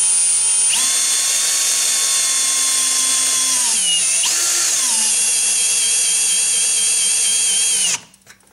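A power drill whines loudly and steadily while winding a Wayne Dalton TorqueMaster One garage door spring, dips in pitch as it bogs down midway, revs back up, then cuts off.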